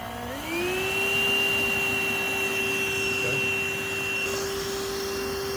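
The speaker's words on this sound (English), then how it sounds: "Let's turn this on and see if we can vacuum a few of these bees up." A bee vacuum used to suck up a swarm of bees starts up with a rising motor whine, then settles into a loud, steady high-pitched drone that holds for several seconds.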